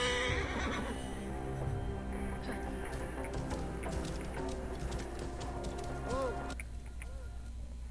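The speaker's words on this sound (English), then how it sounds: "Oh wow, the horse is running too fast for the game." A horse in a video game set in Egypt neighs loudly near the end, with running hoofbeats and ambient game sound throughout.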